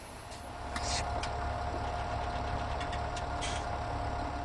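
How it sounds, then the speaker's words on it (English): A tractor engine idles and runs steadily in a farming simulator game set on the Sosnovka map, a loud, continuous mid-range drone that holds level throughout with no talk over it. "Sorry, folks, Tractor Sound about to blow my head off."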